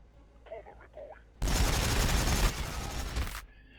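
In the Warhammer 40000 Battlesector video game, during an Orks versus Tyranids match, a strafing run tears loose as a dense, continuous roar of rapid gunfire that lasts about two seconds. It follows a brief, quiet voice.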